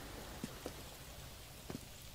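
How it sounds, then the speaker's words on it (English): Rain falls steadily in a run-down spot in LA Noire, a faint, even patter with a few slightly louder drops standing out. "It's rainy."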